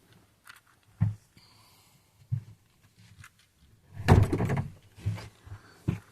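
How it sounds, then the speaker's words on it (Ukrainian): A door is pulled shut in a home during a ceramic bead unboxing, heard as a few soft thumps and clicks, with a louder knocking thud cluster in the middle and quieter handling noises between. "двері закрила"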